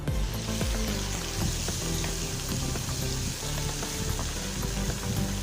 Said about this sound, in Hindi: 3 से 4 मिनट कीमा फ्राई करेंगे प्याज के साथ ऑयल में